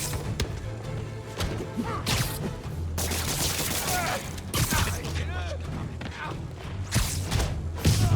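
Rapid bursts of enemy gunfire in the video game Marvel's Spider-Man, loud and repeated over game music and effects, with a voice talking throughout.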